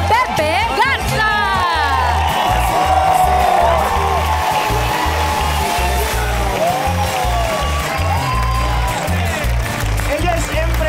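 A studio audience at a Spanish-language TV talent show bursts into applause and cheers, a steady wash of clapping and whoops mixed under music and voices.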